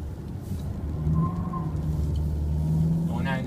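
A Volkswagen Tiguan 2.0 TDI 115 hp diesel on the MQB platform driving along, with a low steady engine and road rumble inside the cabin under someone speaking French.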